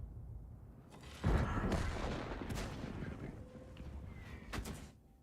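Heavy booming tank cannon shots in the video game XM57, a loud blast followed by a rumbling tail, then a couple of sharper cracks over a constant engine-like background.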